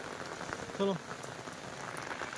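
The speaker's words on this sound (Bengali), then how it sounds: "দেখেন বন্ধুরা বিরাট বৃষ্টি পড়ছে এই দেখেন কেমন জোরে বৃষ্টি পড়ছে" Heavy rain pours down in a constant dense patter on surfaces, broken once by a brief short animal call.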